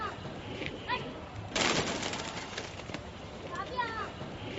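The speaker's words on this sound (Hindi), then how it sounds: "इसमें हमारा 1000 रुपए का कबूतर है" Domestic pigeons at a Delhi pigeon-keeping loft give soft cooing calls over someone talking, with a brief burst of rustling or wing flaps in the middle.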